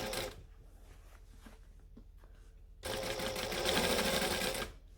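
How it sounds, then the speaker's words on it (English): Sewing machine top stitching at an eighth-inch seam, whirring in a steady run that starts and stops: a quieter stretch first, then a louder, faster burst of continuous stitching close by, with no talking. "And we're just stitching along."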